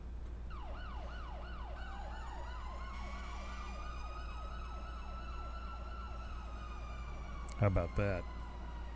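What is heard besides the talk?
fire truck siren in FiveM video game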